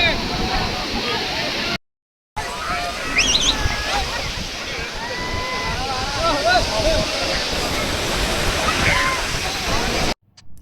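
A boat moves through sea waves off the Udupi coast, with loud rushing water and wind, several voices shouting and talking over it, and a brief dropout near the start.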